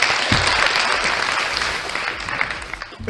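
An audience at a live show applauds before a blind test segment, producing a short, loud burst of dense clapping with shouts mixed in.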